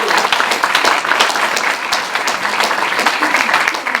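Audience applause at a round-table event in Paris, dense continuous clapping from a crowd, loud and close throughout for several seconds.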